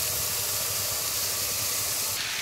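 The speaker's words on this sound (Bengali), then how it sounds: "সোয়াবিনটা ভাজতে বসিয়ে দিয়েছি" Soybean chunks fry in a pan with a steady, close sizzling hiss that holds evenly throughout, with no voices.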